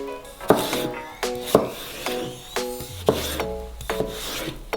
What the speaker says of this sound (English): They need to be cut into slices first. And then into strips.